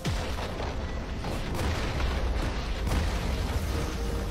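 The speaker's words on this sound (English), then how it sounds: "Blue team's turret has been destroyed." Explosive booms and bursts from a turret being destroyed in League of Legends, dense and continuous over busy game effects, with several sharper impacts standing out.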